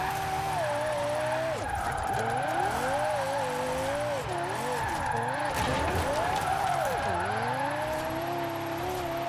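Lexus LFA engine in Forza Horizon 4 floored in fourth gear, a loud continuous high-revving wail that rises, dips and climbs again with gear strain, while someone talks over it.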